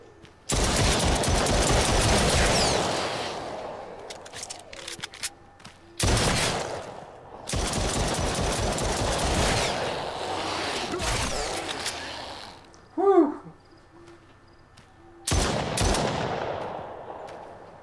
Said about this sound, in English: Alright, so I definitely can't be shooting behind me.